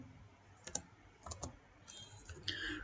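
A few scattered keystrokes on a computer keyboard while Arabic letters are typed into a Quran search program, light clicks spaced irregularly and fairly near.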